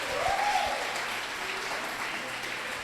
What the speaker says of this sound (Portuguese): Aplauda mais uma vez ao Senhor pela vida dessas pessoas.